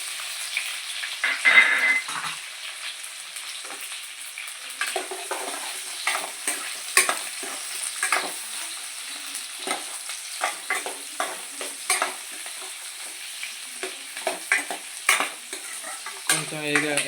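Capsicum and onion stir-fry in a hot pan for chilli chicken, with a soft steady sizzle under repeated scraping and stirring strokes of a utensil, irregular clinks and scrapes coming every second or so.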